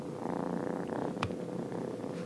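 A small, cuddly male cat purrs steadily close up, a soft continuous rumble running throughout without any talk, with one brief sharp noise in the middle.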